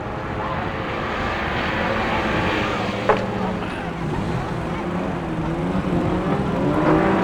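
Autograss race cars at St Neots roaring around a dirt track while bashing into one another, a dense continuous engine drone with one sharp knock, loud and mid-distance, under faint commentary.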